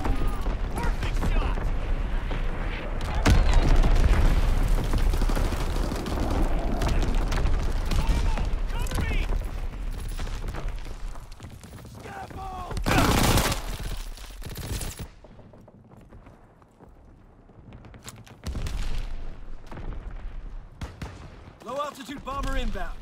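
Bombing runs and gunfire in Call of Duty WWII multiplayer, dense machine-gun bursts and heavy explosions rumbling continuously, loud and close, with in-game voice announcements over the battle.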